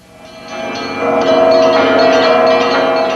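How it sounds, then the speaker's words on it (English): Church bells toll in Kiev, rich ringing tones swelling in loudness and then holding steady, resonant and fairly close, with no voices. "In Kiev, the tolling church bells of national destiny"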